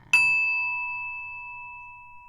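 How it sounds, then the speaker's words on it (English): One clear chime of a small bell, struck once and left to ring out with a long, gently decaying tone. "Let's ring the bell again."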